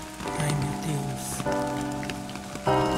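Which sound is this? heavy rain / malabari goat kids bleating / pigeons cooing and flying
heavy rain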